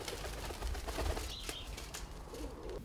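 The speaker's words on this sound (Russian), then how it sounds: "Его голубятня насчитывает около 50 особей." Pigeons at a village dovecote housing about fifty birds, soft cooing with a brief flutter of wings, moderately near against a steady outdoor background, with no talk.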